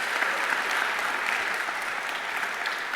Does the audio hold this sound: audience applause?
yes